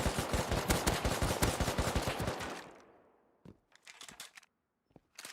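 Rapid automatic gunfire from a first-person shooter game fires in a fast burst, then stops abruptly, followed by a few scattered clicks and short bursts.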